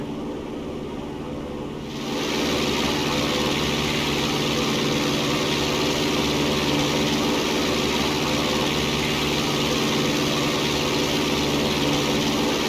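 A propeller airplane drones loudly and steadily during takeoff and climb out over treetops past the runway end. The engine swells in after a brief quieter start, then holds a constant, dense roar with no talk.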